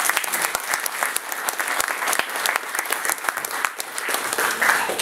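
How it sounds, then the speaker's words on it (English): Audience applause for an energy expert's talk at an evening event, a dense, steady round of clapping from a crowd sustained throughout, fairly close and loud with no speech over it. "We could have a round of applause for Mark."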